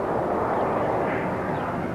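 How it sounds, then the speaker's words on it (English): An airplane flying and pulling up over a test grid gives a continuous loud engine roar, broad and steady, filling the whole short stretch without talk. "As the plane pulled up and away from the test grid"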